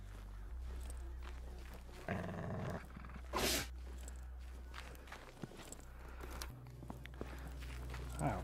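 A dog in the VR video game Convrgence gives low growls and rumbling snarls over a droning game background, with soft footstep-like thuds scattered across the stretch and a louder burst near the middle.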